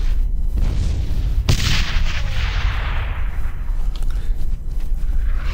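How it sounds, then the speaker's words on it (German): A thrown grenade explodes in Brothers in Arms: Hell's Highway, a sharp loud blast followed by a long rumbling decay, set amid ongoing battle noise and scattered gunshots. "Achtung, ich werfe eine Granate!"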